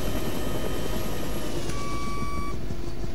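A medium utility helicopter in ArmA 3 with the AFM Rotorlib mod drones steadily with a loud, continuous rotor and turbine roar and a thin whine above it, and a brief high tone that fades near the end.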